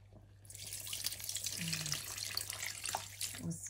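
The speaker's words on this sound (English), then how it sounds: "I'm going to add a little water just to cover the whole fish." A small stream of water pours into a pot of tilapia pepper soup with yam, a steady close splashing that lasts a few seconds.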